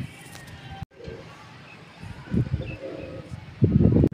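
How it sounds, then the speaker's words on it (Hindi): Soft, low pigeon coos come in short bursts, close by, with faint rustling between them and a louder coo near the end. "कबूतर गुड़कने लग जाते, देखे आवाज़ भी सुन सकते हैं"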